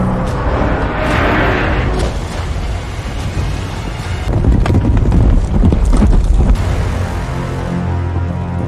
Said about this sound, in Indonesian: diiringi ratusan kerbau berlarian